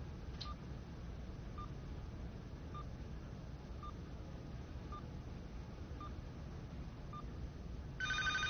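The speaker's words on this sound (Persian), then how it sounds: "ببخشید نمیخوای تلفن رو جواب بدی؟" A telephone rings in a Chinese film with Persian dubbing: faint, evenly spaced electronic chirps repeat about every half second over a steady hiss, ending in a louder, sustained tone.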